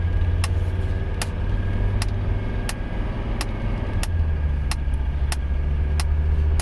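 A 1985 Mercedes 300CD driving on asphalt, its engine giving a loud, steady low hum close by, with occasional sharp clicks or ticks cutting through at regular intervals.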